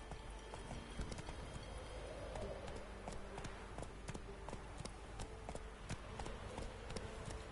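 Roach, the horse in The Witcher 3, gallops steadily with rhythmic clip-clop hoofbeats over quiet ambient game sound.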